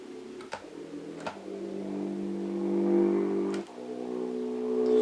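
A synthesized flute on a MIDI keyboard plays in the third octave, sustained, buzzy notes that shift in pitch, with small clicks where each new note begins.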